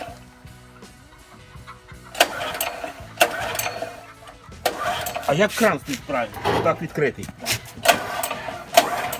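A petrol generator engine cranks in several short bursts on its starter, then catches and sputters unevenly, with people talking nearby throughout.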